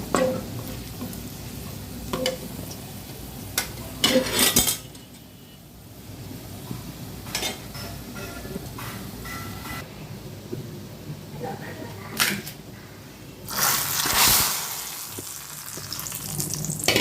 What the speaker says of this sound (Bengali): সেজন্য পেঁয়াজ কুচি আর রসুন ভেজে নিচ্ছি